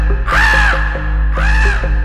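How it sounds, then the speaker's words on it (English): Two loud, harsh crow caws, close and clear, separated by a short pause, with no talking over them. "he heard the crow."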